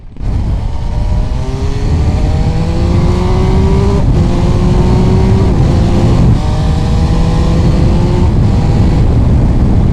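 An MV Agusta Turismo Veloce 800 Lusso sport touring motorcycle engine revs hard, climbing in pitch through several gear shifts, loud and close with a raspy, continuous roar.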